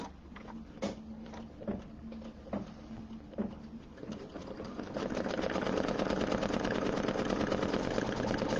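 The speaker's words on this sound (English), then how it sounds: "let's just go ahead and sew out this placement line" An embroidery machine stitches a placement line, starting with a few spaced taps that give way to a fast, steady mechanical patter, close and alone.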